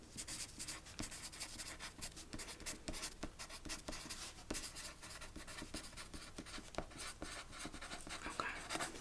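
A pen writing on a paper form at an office desk, close and crisp, with continuous scratching strokes and small taps throughout, no speech.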